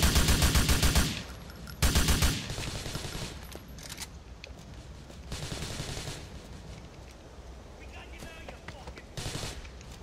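Gunfire in the video game GTA IV: two loud, rapid automatic bursts near the start, then quieter scattered shots and rumbling bursts further off later on.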